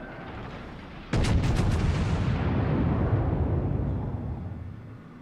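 A North Carolina battleship's heavy naval gun salvo in World of Warships booms once, then the blast rumbles and slowly fades away, with no talk.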